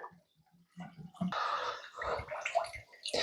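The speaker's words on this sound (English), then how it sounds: "I'm going to fire a bit of water through it to see if it actually drains through" Water from a watering can gushing and splashing through the water housing elbow of a Land Rover Defender TD5, a steady pouring rush for about two seconds after a few soft knocks.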